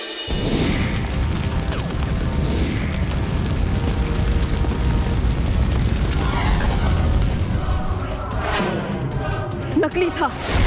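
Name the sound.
gift being burst open, an explosion effect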